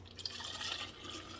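Apple water pours into a container, a steady liquid trickle with small splashes running throughout at close range, fairly quiet and without talk.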